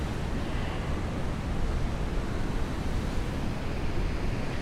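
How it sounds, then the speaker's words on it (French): Ocean waves breaking behind a person on the shore at night, a continuous broadband wash of surf with some wind rumble, steady and moderately loud with no talking. "à vous connecter à ce doux bruit des vagues et la puissance de l'océan là qui est derrière moi aussi"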